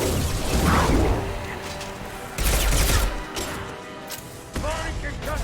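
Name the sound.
concussive shot firing in Mass Effect video game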